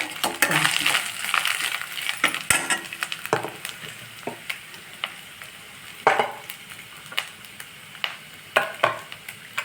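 Grated coconut is stirred in a pan for red poha kozhukattai, with a soft sizzle under repeated scraping strokes and sharp spoon-on-pan clinks, some strokes louder than others, no talk.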